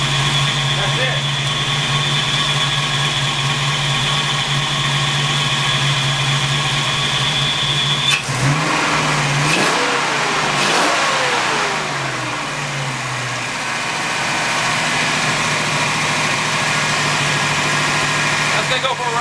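A 1986 Ford Mustang GT V8 with a high-RPM stumble idles with a steady hum, then revs up sharply several times before settling back, heard close by while people talk near the car.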